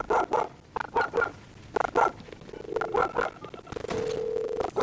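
A dog in the video game Far Cry 6 barks repeatedly, a series of loud, close woofs in uneven bursts with a short whine near the end.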